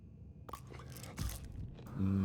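Alan Wake gulps down pills from a bottle in Alan Wake 2: a quick series of close, crisp crunches and chewing bites, with a brief voice and a sustained tone at the end.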